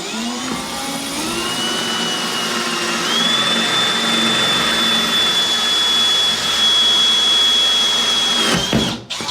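A diamond bit grinds into a wall in one continuous, loud, close drilling run: a steady whine climbs in pitch early on, holds level, then cuts off abruptly near the end.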